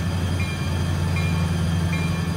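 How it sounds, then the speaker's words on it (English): A locomotive running at high throttle in the Roblox RO-Scale train game, a continuous low engine drone with a steady hum and faint periodic high squeaks, loud and uninterrupted without talk. "Then we just hear the locomotive even faster."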